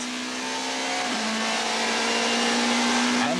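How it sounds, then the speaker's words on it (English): Touring race cars from 1998 scream along the beach straight at the East London circuit. The engines make a loud, sustained high-revving drone with a steady pitch, and a slight shift comes as one car passes. "Anthony Taylor and Sean van der Linde also went sailing past the engine Audi"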